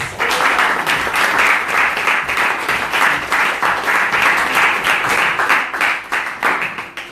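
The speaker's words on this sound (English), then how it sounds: "So I'd like to give Sharadia Rasa a warm round of applause." An audience at a Sunday spiritual talk applauds warmly with dense, steady clapping that holds for several seconds before tapering slightly at the end.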